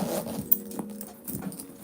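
A zipper on a suede-lined handbag being pulled open, a short series of close scraping zip strokes with light rubbing and handling noises, and no talking.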